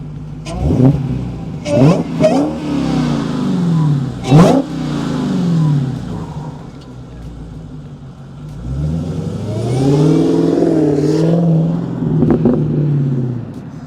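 A 2018 Dodge Demon muscle car roars past, engine revving hard with a rising and falling snarl as it approaches and recedes, no voices.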